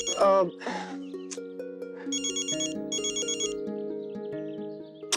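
A phone ringtone plays a repeating melodic ring that goes on steadily, with brief speech at the start.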